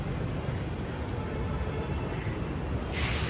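Metro train at KR Puram metro station in Bengaluru, a steady loud rolling rumble with a brief hiss near the end, no talking.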